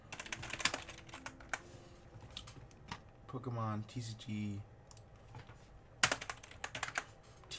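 Quick, uneven clicks of typing on a computer keyboard, close and fairly quiet, come in bursts at the start and end, with someone talking in the middle.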